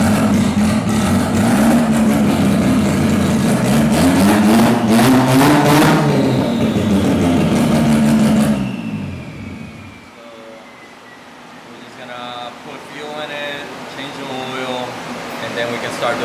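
A Mazda RX-7 FB on a dyno inside a tuning shop roars loudly with a steady, raspy drone for about eight seconds, then cuts to a quiet background where voices are heard.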